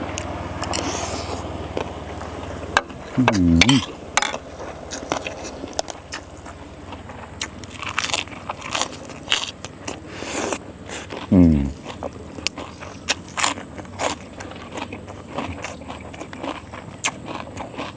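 Someone takes crunchy, close bites of spicy Thai papaya salad with crab and fermented fish, eaten with crackling pork rinds. Crisp crunches and chewing come in bursts, with talk in between.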